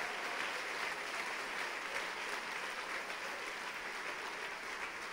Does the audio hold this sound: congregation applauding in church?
yes